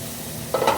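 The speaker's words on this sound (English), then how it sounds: "We're gonna get that sauteed." Shrimp and parsley for shrimp scampi hit a hot pan, a burst of sizzling that swells up suddenly over a quiet kitchen hum in the final moments.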